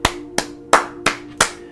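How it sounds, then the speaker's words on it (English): Five sharp hand claps spaced evenly about a third of a second apart, fairly close and loud, with a faint steady hum underneath and no talking. "big round of applause for y'all"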